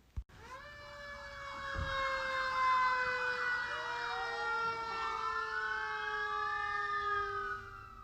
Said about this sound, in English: started to hear that fire truck sound